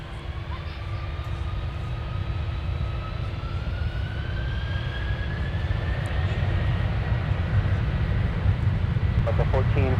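A Delta heavy jet rolls for takeoff on an MSP runway, a loud broadband engine roar building steadily with a rising whine sweeping upward, while radio chatter runs underneath.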